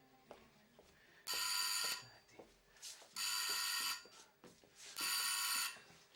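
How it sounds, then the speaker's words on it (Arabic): A bell rings in three loud, shrill bursts separated by short pauses, with quieter background noises and movement in between. "ليش هيك صاير صوت الجرس"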